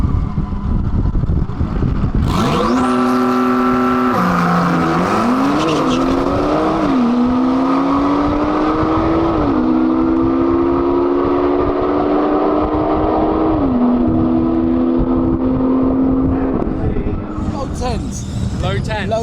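A 1100bhp Porsche with a TechArt kit conversion runs at a Santa Pod drag racing event, its loud engine note rising and stepping through gear changes for about fifteen seconds, close and continuous, with talk underneath.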